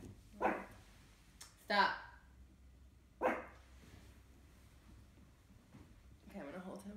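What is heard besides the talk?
Pomeranian dog barking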